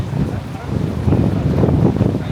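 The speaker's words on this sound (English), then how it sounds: "Just the wind that bothers people" Low, gusty wind outside London Euston station buffets the microphone, rumbling and swelling unevenly in loudness throughout.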